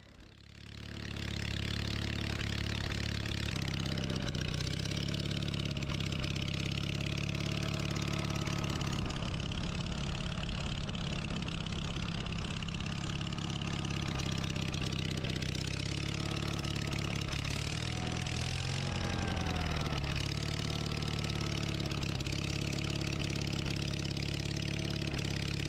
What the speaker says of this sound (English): you're hearing that distinct Onan sound.